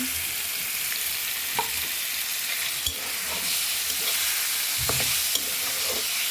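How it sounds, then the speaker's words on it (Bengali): Tengra fish fries in a spice paste in a pan while being stirred, giving a continuous close sizzle with occasional scraping and knocking of a spatula throughout, no voices. "মাছটা একটু কষাই নেব।"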